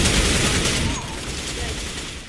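Rapid bursts of gunfire in Counter-Strike: Global Offensive on the Cache map, a headshot in a FaceIt solo-queue match. Shots crack loudly at first, then fade into a dense, noisy rattle.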